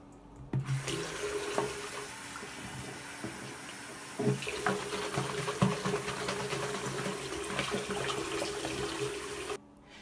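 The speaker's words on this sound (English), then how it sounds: "Now I just need to wash this out." Tap water runs steadily into a sink to rinse out a plastic spray bottle with a broken nozzle, a continuous close splashing hiss with brief clunks of the bottle being handled, cutting off abruptly near the end.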